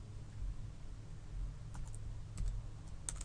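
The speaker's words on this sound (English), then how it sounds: "So I'm going to start typing a character. I'm going to type A." A few sparse, faint keypresses on a computer keyboard, light clicks scattered over a quiet hum with no talk.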